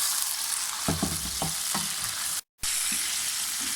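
Loud, steady sizzling of chicken frying in hot oil over a high flame for karahi, with a few soft stirring clunks and a brief cut to silence midway.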